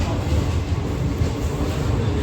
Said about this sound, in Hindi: तो हम लोगों की ट्रेन आ चुकी है